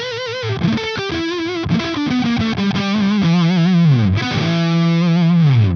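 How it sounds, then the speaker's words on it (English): Heavily fuzzed electric guitar plays a noisy minor pentatonic lead with string rakes, dense buzzing notes sliding and bending continuously, loud and close with no voice. "to get that real noisy sound, add some rakes to your leads"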